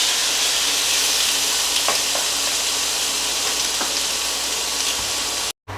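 Garlic sizzles in a pan with caramelized pineapple while being stirred, cooking for pineapple chicken and rice. A steady, close frying hiss runs throughout, with a few soft stirring scrapes, and it cuts off briefly near the end.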